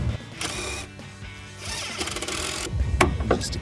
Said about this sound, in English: we can take the driver and go ahead and tighten it in